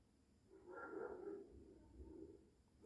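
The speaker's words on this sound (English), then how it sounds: "Dogs are barking." Dogs bark faintly and far off, a short muffled burst of barking over a quiet outdoor background.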